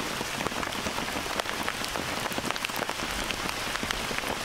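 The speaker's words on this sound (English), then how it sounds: "So it's raining" Steady rain patters densely on a surface with scattered sharper drops, even and moderate in level with no voices, outdoors in the Moshi area during a stay with a local family.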